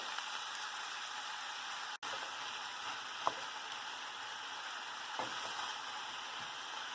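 Steady, soft sizzling of vegetables sautéing in a hot pan for vegetable kurma, a continuous crackly hiss with a few faint pops, no voices.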